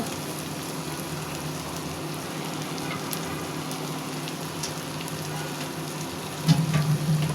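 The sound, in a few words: water poured into pan of frying shrimp, sizzling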